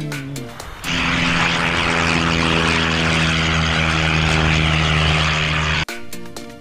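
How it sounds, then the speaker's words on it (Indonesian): Blue and white toy plane running with a steady, loud buzzing propeller-like motor drone that holds for about five seconds, with clicks and handling noise before and after and no talking. "Ayo teman-teman, kita terbangkan pesawat toy plane-nya."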